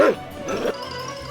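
A dog gives a quick bark or yip close by, followed by a brief stretch of quieter background noise.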